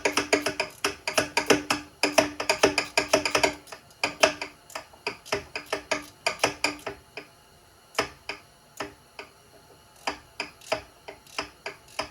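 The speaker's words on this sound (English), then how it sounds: "probably go down from this drain plug and get my ratchet wrench on it" A ratchet wrench works the carburetor drain plug on an Arctic Cat F120, clicking steadily in fast bursts of sharp ticks close up, then slowing into sparser, spaced clicks.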